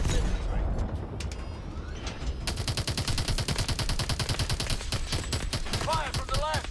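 Rapid automatic gunfire in the Call of Duty: Advanced Warfare campaign's Bio Lab mission, loud and sustained, with scattered shots early, then a dense burst of fire and whining effects near the end.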